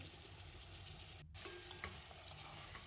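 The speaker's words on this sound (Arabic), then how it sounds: "نقليو مليح التقليه تاعنا" Onion, garlic and chicken or meat fry in a pan with spices such as cinnamon, ras el hanout and ginger, giving a steady close sizzle with a short stir break and small pops, no talking.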